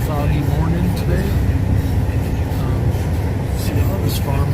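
Steady low rumble and rattling inside a moving train carriage, with people talking over the constant rolling noise.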